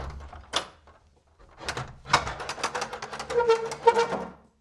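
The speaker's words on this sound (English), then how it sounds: "the turret is connected to this room by a lovely old door" An old wooden door to a turret in a small castle opens with a soft click, then a run of creaks, clunks and rattles building over several seconds, close by and moderately loud.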